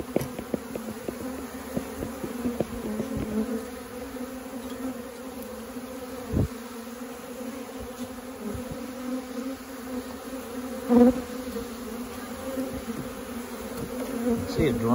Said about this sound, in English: I don't know how many layers of bees there are in here.